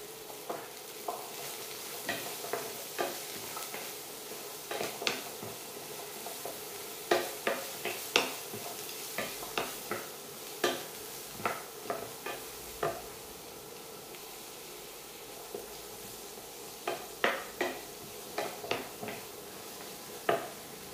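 Cubed carrot frying and being stirred in a pan, a steady low sizzle beneath repeated sharp scraping strokes of the spoon at an irregular rhythm, close and clear with no talk.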